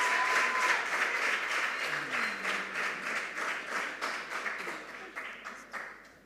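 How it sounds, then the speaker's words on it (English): An audience at a school quiz competition claps for the contestants in a sustained round of applause that slowly tapers off, with a voice briefly audible over the clapping. "Let's give them another round of applause."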